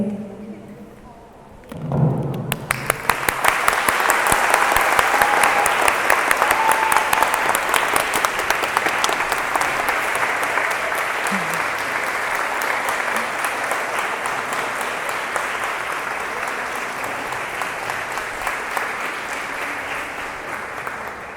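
Sustained applause from a lecture audience for teachers, starting after a brief spoken word and swelling into a long, loud, even roar of clapping that holds steady throughout.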